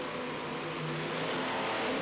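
Race truck engines revving at the start of a race, a dense, steady engine roar that holds at a sustained pitch without pause, fairly faint and blended with the noise of the track.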